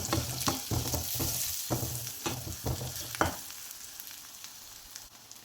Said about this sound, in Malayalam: ഇട്ട് കൊടുത്ത് ഒന്ന് ഇളക്കി കൊടുക്കാം.